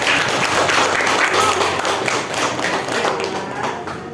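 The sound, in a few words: audience applause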